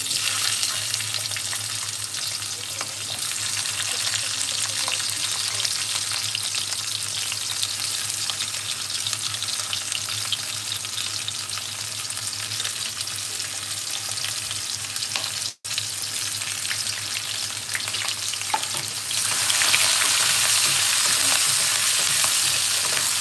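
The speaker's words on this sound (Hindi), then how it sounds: "तेल गरम हो गई है, इसमें मैं प्याज कटिंग करके जो रखी थी वो डालूंगी।" Chopped onions fry in hot oil for pasta masala, making a loud, continuous sizzle that runs unbroken with only a brief dip, then grows brighter and hissier near the end.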